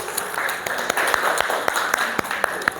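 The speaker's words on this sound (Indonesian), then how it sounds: "tepuk tangan buat Ibu Rizky dan Pak Alex" An audience claps during a teacher training session, forming a steady wash of hand claps with a few sharper, louder claps standing out near the front.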